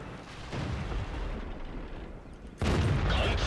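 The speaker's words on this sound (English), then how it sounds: "He's using the derp gun. It's a very potent gun against this tank." The derp gun of a heavy tank, the Japanese Tiger Heavy Tank No. VI, fires in the World of Tanks video game with a sudden heavy boom over a rumbling battle background.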